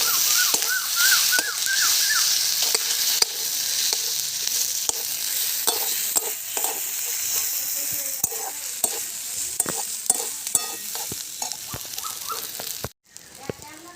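Spices with bay leaf, ginger-garlic paste and cumin paste frying and being stirred in a pan for oyster curry: loud steady sizzle broken by repeated scraping strokes and clinks of the spoon, close up.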